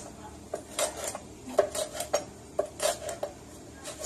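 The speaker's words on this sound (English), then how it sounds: "I'm going to julienne these real fine, as tiny as I can get them" A knife julienning peppers on a cutting board gives about a dozen sharp, close taps at an uneven rhythm, each carrying a faint metallic ring, over a quiet background.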